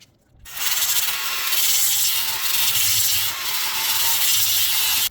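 Steady abrasive rubbing and sanding on the iron brake rotors of a Camaro ZL1 1LE during a trackday brake job, a continuous close scraping that runs without pause after a brief quiet start.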